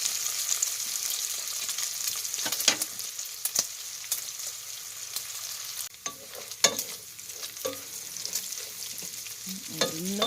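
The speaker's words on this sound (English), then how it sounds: "There's nothing better than the smell of bacon cooking" Bacon fries and browns in a pot for minestrone soup, a faint, steady sizzle broken by occasional stirring scrapes and clinks, with no voices.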